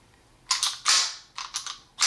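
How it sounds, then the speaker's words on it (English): A SIG Sauer P220 Legion pistol slide is racked from the front, giving a few sharp, close metallic clacks in quick pairs with short pauses between them, loud against a quiet room. "I go ahead and cock the pistol from the front"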